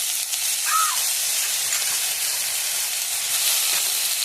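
Crushed ginger, garlic and green chili hit softened onions in a hot pan and sizzle steadily, a close, even hiss with a faint chirp in the background.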